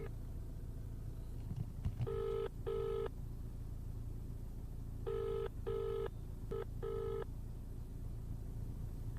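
Repeated ringback tones of an outgoing telephone call that goes unanswered, sounding as paired bursts in a steady cadence over a low background hum.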